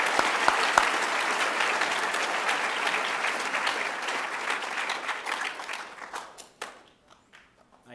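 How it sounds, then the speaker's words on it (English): A middle school audience at an eighth grade promotion night gives a sustained round of applause for the students, dense and fairly loud at first, then thinning into scattered claps that die away near the end. "join me in a round of applause"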